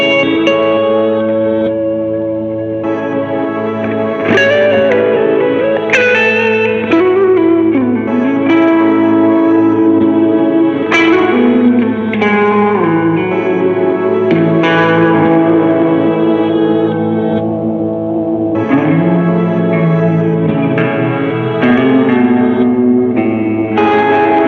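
An ambient guitar bed from a Mood effects pedal swells in a dense wash of reverb, echo and chorus-like shimmer, loud and continuous for the whole stretch with no voices.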